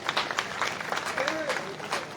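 Audience clapping rises at a Hindi poetry gathering held in a town hall setting, broad rattling applause that continues underneath a raised voice and cheers carrying over it.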